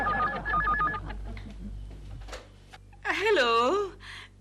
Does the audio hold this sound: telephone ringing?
yes